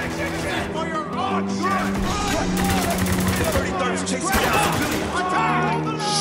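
Gunfire in the war shooter Spec Ops: The Line: rapid automatic bursts and scattered shots crackle over a tense music bed, with voices shouting through the firefight.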